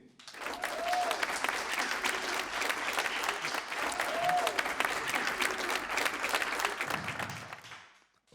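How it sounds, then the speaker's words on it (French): Applause from a comedy club audience fills the room, a steady dense wash of clapping that holds strong for about seven seconds before tapering off, with no talking over it. "applaudissements, s'il vous plaît"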